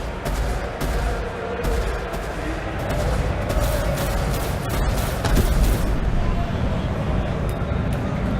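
Rapid, continuous turret gunfire from a pirate-themed video game rattles loudly and densely throughout, with sustained bursts and booms layered together.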